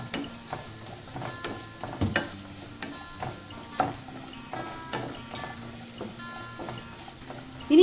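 Half a cup of coconut pieces being sautéed for a Kerala beef fry, a soft, even sizzle broken by repeated scraping stirs and light clinks of a spatula against the pan.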